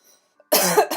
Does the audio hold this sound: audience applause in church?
no